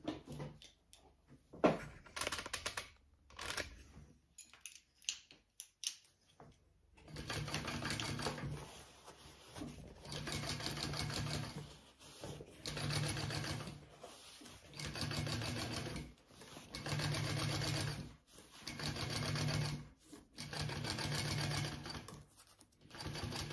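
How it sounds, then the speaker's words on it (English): A sewing machine top stitches a crossbody bag's exterior and seam allowance in repeated close bursts of rapid mechanical whirring, broken by short pauses and a few clicks and handling knocks. "we are just going to top stitch onto our exterior and our seam allowance"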